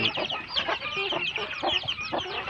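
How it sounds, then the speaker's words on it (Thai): A young Burmese crossbreed chicken of a fierce game line clucks in quick repeated bursts, fairly faint against a steady farmyard background. "นี่เป็นไก่ หนุ่มลงมีกับพม่า"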